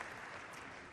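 A brief burst of dense clapping from a crowd at a submarine keel-laying ceremony, steady and loud throughout.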